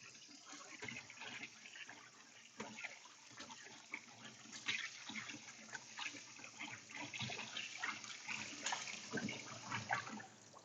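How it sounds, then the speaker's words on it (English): Boiled yakisoba noodles are rinsed under running tap water in a kitchen, a steady faint splashing flow with irregular sloshes from handling, continuing throughout without talk. "when you're making yakisoba, most of the time you wash the noodles after you boil them"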